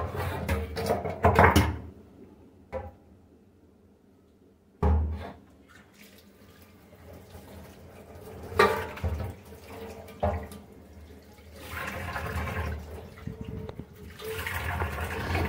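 A household tap runs in intermittent splashing bursts as a young girl washes things at a sink, with clatters of items set down between the gushes and quieter pauses.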